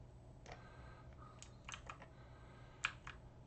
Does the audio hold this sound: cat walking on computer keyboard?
yes